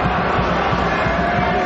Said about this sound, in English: Big heave sound coming from the crowd.